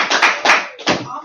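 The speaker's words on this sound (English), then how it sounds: "Let's give you a big round of applause." A presentation audience claps in a round of applause, in three short loud bursts that fade between them, close and crowded, with no talk over it.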